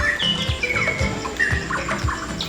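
White-rumped shama, a passerine songbird, singing in densely vegetated forest habitat at Kuldiha Wildlife Sanctuary, with varied whistled phrases and chirps over a steady background of insects and other birds.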